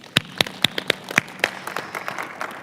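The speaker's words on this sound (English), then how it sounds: "Let's give her a round of applause." Scattered audience applause at a transit assembly: a handful of sharp, separate claps near the start, then thinning into softer, sparser clapping over about three seconds.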